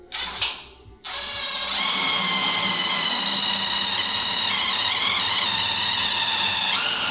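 A power drill bores a hole during an S10 leaf spring bucket install. It starts with a short burst, pauses, then whines steadily and loudly up close for several seconds, with the pitch shifting slightly as it cuts.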